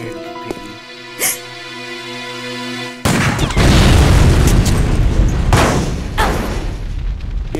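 Gunfire crashes out in Resident Evil Code Veronica X: after a quiet stretch of music with a couple of soft hits, a loud, dense burst of shots and explosions fills the rest, with a voice briefly heard.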